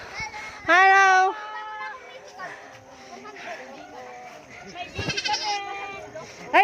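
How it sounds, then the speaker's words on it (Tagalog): A goat bleats loudly and close by in two wavering cries, one near the start and another later, with people chatting and children's voices in the background throughout. "Ay, may kambing oh."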